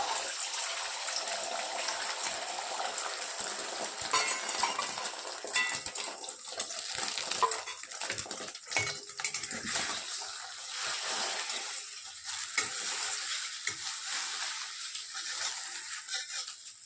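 Beaten egg seasoned with salt and pepper frying in white oil in a wok, a steady close hiss of sizzling with scattered crackles and spatters running throughout, no talking.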